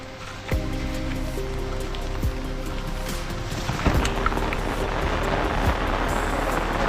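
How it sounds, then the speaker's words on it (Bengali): Rain falls across an island, a steady wash of drops pattering on nearby surfaces and growing louder partway through, with a few sharper drips and taps close by. "আর পুরো আইল্যান্ডে বৃষ্টি শুরু হয়ে গেছে"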